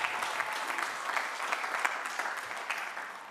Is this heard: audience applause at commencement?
yes